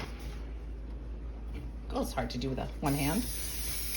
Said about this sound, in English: Haha, cooking spray, that's what I'm looking for.